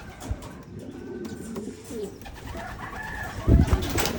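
Pet pigeons in a hobbyist's loft coo in low, throaty rolls, several birds close by with a louder burst near the end, over faint background noise.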